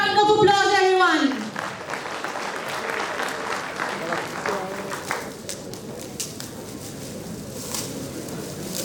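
Audience applauding at an international pharmaceutical conference during a book inauguration, with a burst of clapping after a voice over the PA, then steady applause continuing under it.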